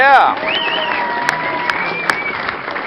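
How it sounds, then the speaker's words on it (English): Studio audience applauds on a comedy panel show, a full, sustained round of clapping and light cheering heard close up, with a voice speaking briefly at the start. "Keep that applause going"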